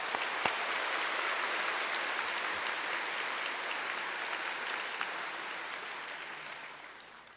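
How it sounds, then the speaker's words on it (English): Steady, broad audience applause fills a hall at a bar oath-taking ceremony for new lawyers, sustained and even throughout, then slowly tapering toward the end, with one sharp clap standing out early. "A big round of applause for everybody."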